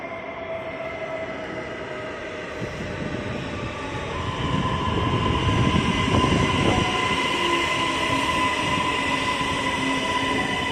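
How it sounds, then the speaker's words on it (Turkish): A metro train rumbles into a station in Ankara, its low roar swelling with faint squeals and a steady hum. No one speaks. "Metro geliyor, metro geliyor."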